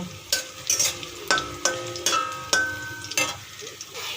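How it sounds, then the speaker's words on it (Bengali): Garlic frying gently in oil over low heat in a home kitchen, a soft steady sizzle broken by several sharp clinks and scrapes of a spoon stirring against the pan, close and fairly loud. "রসুনটা একটু আস্তে হিট দিয়ে আমরা একটু ভেজে নেব বেশি ভাজবো না অল্প ভাজবো"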